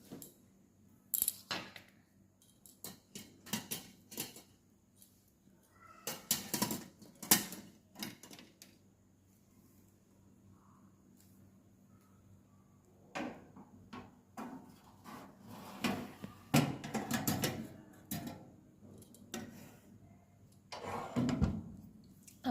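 The timer knob on an oven is turned by hand, giving bursts of clicking ratchet sounds in several separate spells with quiet gaps between them.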